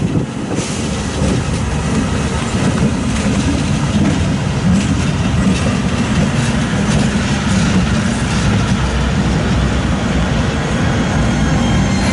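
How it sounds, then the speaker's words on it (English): A Union Pacific train rolls past at Fairbury, Nebraska, with a flat spot on one wheel. The loud, steady rumble of rail cars fills the whole stretch, and faint repeating knocks run through it. "Sounds like this one's got a flat spot on it."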